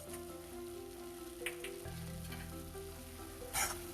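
Coriander powder added to sizzling oil for a restaurant-style dal tadka tempering: a faint, steady frying crackle with a low hum beneath and a brief louder hiss near the end.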